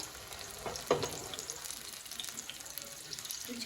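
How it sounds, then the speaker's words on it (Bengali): Sago fritters shallow-frying in a little oil, giving a quiet, steady crackling sizzle with one sharper pop near the start and no voices. "অল্প তেলে একটু ভাজা ভাজার মতো করবে"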